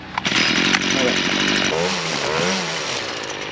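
A light Stihl chainsaw, already warm, sputters into life with a few pulls, then settles into a steady buzzing run while a voice speaks briefly over it.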